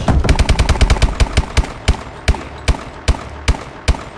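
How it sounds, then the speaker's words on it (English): Submachine gun fire in a video game: a rapid burst of loud, sharp shots that slows into evenly spaced single cracks, close and alone. "Is that a submachine gun?"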